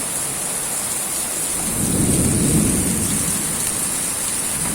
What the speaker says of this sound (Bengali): এমনিতে প্রচুর পরিমাণে বৃষ্টি হতেছে